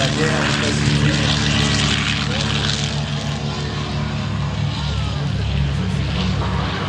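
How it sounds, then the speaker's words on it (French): Grumman Avenger torpedo bomber, a propeller aircraft, flying past at the Cerny La Ferté-Alais airshow, a loud steady engine drone with rich low harmonics throughout, with a commentator talking over it. "Ce bombardier torpilleur connu sous le nom d'Avenger."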